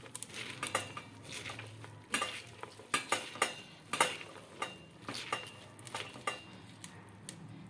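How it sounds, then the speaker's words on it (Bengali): Kolmi greens being tossed and mixed with salt in a bowl, giving a run of soft wet rustles and stirring clatters in uneven bursts, close and fairly quiet, with no talking. "নুন দিয়ে শাকটাকে আবার এইভাবে একটু মিশিয়ে নেব নুন দিয়ে"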